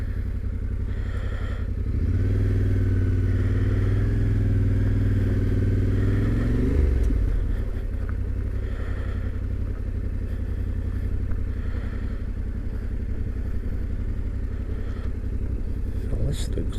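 A Yamaha Tenere 700 Rally motorcycle engine idles close by while being parked, with a brief rise in revs before settling back to a steady idle rumble.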